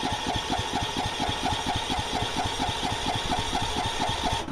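A Craftsman LT4000 riding mower engine, low on gas, is cranked in an attempt to start it. It gives a rapid, regular chugging pulse that stays close and even before cutting off at the end, with no talking.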